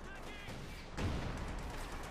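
Gunfire in the World War II strategy game Company of Heroes 2 during an anti-tank engagement, a dense burst of shots and low impacts arriving about halfway through under an excited commentator's voice.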